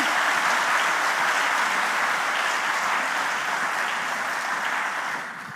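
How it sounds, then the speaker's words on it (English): Sustained applause from a conference audience at the EURAXESS Biennial Conference 2024 fills the room, a dense and steady wash of clapping that holds evenly and fades slightly at the end. "Kitty Feringer, again, a round of applause"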